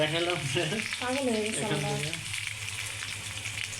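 Garlic, dried and green chilies and onion sizzle loudly in hot oil in a home kitchen while mustard greens are being cooked, a steady crackling hiss running under a voice speaking over the frying.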